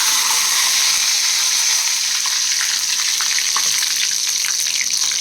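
Curry leaves hit hot oil already holding fennel seeds, cinnamon and cloves, giving a steady, bright, close sizzle that runs unbroken throughout with no voices.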